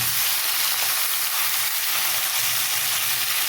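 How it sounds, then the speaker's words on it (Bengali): Kochur loti, taro stolons already boiled with salt, fry in a pan with a dense, steady, close sizzle and no talk. "আমি এখন এটা ভালো করে ভাজবো"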